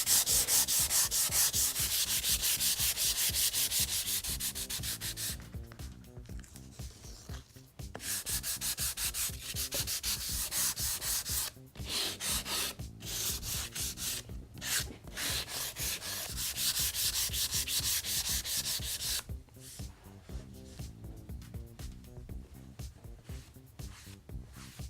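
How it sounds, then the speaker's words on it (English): Wood filled with Timbermate water-based woodfiller is sanded along the grain in long, steady rubbing strokes, close and continuous with a few short pauses between passes. "so that's nicely filled and dry now, it's ready for sanding."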